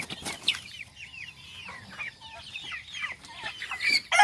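Two-month-old Rhode Island Red chickens cluck and chirp in a quick, overlapping chatter at moderate volume nearby, with no voices over them.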